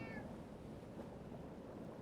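A cat perched on a rocking gunpowder barrel in the video game Foolish Mortals gives a short, high meow right at the start, over a steady low wash like sea and surf.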